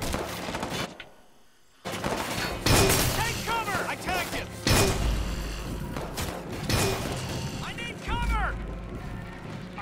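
Weapon reloading in the Watch Dogs 2 video game: several quick mechanical clicks and clacks of a gun being reloaded, sitting amid loud game noise with bursts of impact and gunfire-like crashes.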